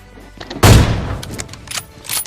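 A single loud gunshot in a shooter video game cracks out with a booming tail, followed by fainter scattered in-game noises.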